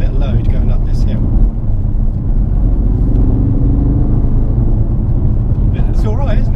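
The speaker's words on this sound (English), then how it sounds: "Put it into third gear and give it a bit of load going up this hill." Ford Focus RS MK2 engine pulling under load in third gear up a hill, a steady, loud droning rumble heard from inside the car, with someone talking over it at the start and end.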